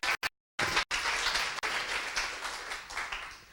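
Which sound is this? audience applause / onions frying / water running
audience applause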